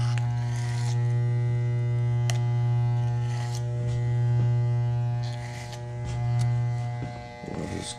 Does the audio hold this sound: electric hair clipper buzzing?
yes